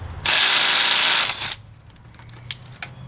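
A Ridgid impact wrench running at speed 2 and set to 80 foot-pounds gives one loud, steady burst of about a second and a quarter, then cuts off, leaving quieter scattered mechanical clicks and taps.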